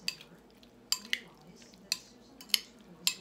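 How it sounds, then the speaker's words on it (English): Utensil stirring frozen greens with tomatoes and onions in a pot gives sharp clinks and scrapes, about six distinct knocks spaced irregularly over a few seconds, fairly close with no talk. "Stir it all in there."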